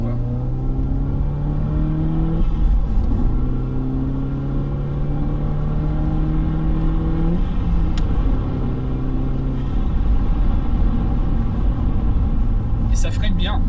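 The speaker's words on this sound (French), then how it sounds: "ça a le petit bruit de la GTI qui est vraiment très bien" A Volkswagen Golf GTI's engine and exhaust hum from inside the moving car, with rising tones through several gear changes and steady road rumble under close talk.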